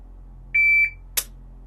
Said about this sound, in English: when you hear the beep, I want you to pull the trigger for the next shot